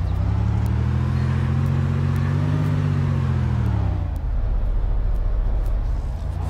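A car in the DayZ video game drives through buildings in Elektro with a loud, steady engine drone whose pitch swells and then dips, alongside faint periodic ticks and no talking.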